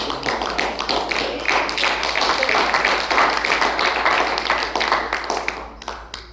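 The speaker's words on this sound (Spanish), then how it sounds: "Denle un aplauso a Dios." Congregation at a church service breaks into sustained applause, a dense wash of many hands clapping steadily for about six seconds before thinning out, loud and close with scattered voices mixed in.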